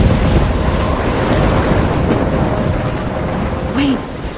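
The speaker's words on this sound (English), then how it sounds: "I'm trapped in a storm?" A storm roars through the game Life Is Strange, with steady wind, rumbling thunder and crashing waves near a lighthouse, loud and continuous.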